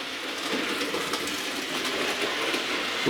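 Model train with a loco and bogies running over Peco points in a ballasted fiddle yard, a continuous soft rolling rumble with faint rhythmic clicks, fairly close and steady throughout, no talking.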